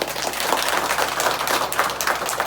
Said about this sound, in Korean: 우리 한 영광의 박수를 드리겠습니다.